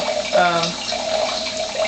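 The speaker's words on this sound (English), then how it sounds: "This is just a lot of pouring" Water pours from a tap or jug into a jar, a close, steady splashing stream with a rising tone as the jar fills, lasting under two seconds.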